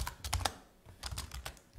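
Quick keystrokes on a computer keyboard while PHP code is typed, in two rapid bursts of clicky taps separated by a short pause, close and clear.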